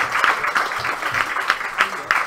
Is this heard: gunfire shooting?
no